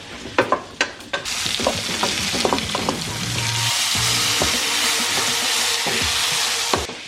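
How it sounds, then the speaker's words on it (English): Onions and peppers sizzle loudly in a frying pan, with clattering stirs at first before settling into a steady, close crackling hiss. "add all of the onions and peppers to the pan, get them sizzling away"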